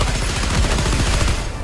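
Rapid, continuous cannon fire in the video game Helldivers 2, loud and dense with overlapping shots rolling on without a break.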